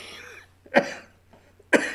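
Two sharp coughs about a second apart, close and fairly loud, with quiet pauses around them.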